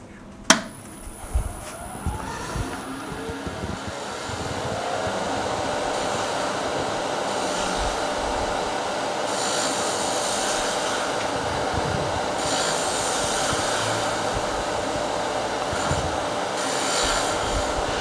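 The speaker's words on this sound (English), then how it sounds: "As long as I do really light, delicate cuts, I can finish up this bottom without any issues." Light, delicate cuts finishing the bottom of a wooden box produce a steady, continuous whirring scrape, with a few sharp knocks at the start before the sound settles into an even drone.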